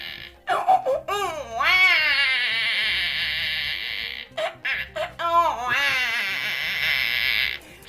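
A voice imitates a newborn baby with two bursts of wavering, high-pitched cries and whimpers separated by a brief pause.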